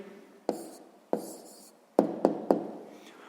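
Pen scratching on paper while an answer to a sixth-grade maths percentage exercise is written down: a few short strokes followed by several sharp taps, close and fairly quiet, with no talking.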